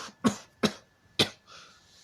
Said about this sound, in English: that's one hell of a cough